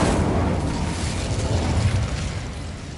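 The Incendio fire spell is cast in the video game Hogwarts Legacy, producing a loud, dense whooshing roar of flames that holds steady for several seconds before easing slightly.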